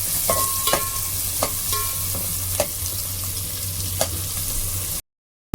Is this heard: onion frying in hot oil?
yes